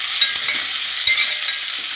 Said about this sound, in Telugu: కొత్తిమీర పచ్చిగా ఉంటుంది కాబట్టి కొంచెం బాగా వేగిన వరకు కలుపుకుందాం.